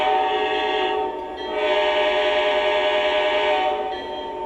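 Lionel Santa Fe DD35 model train running a lap around a layout, a steady tonal electronic horn or whistle sounding continuously close by with a brief dip partway through, no talking.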